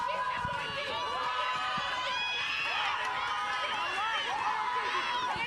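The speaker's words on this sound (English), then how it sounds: "The screams from the crowd is for UCT to hold the defensive line" A crowd at a university women's netball match in an indoor court keeps up a constant din of high-pitched screams and shouting that stays loud and steady throughout.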